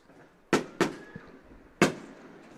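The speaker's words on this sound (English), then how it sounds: "Fireworks sponsored by the Huntsville Volunteer Fire Department." Three sharp fireworks bursts boom out at a distance after a high school football game, two close together and a third a moment later, each trailing into a short crackling decay.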